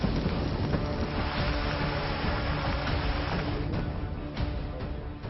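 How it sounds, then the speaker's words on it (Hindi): Rough sea waves pounding the Gujarat coast as Cyclone Biparjoy approaches, a continuous loud roar of surf mixed with steady wind noise buffeting the microphone, no voices. "वैसे वैसे समुद्र की लहरें और विकराल होती जा रही हैं।"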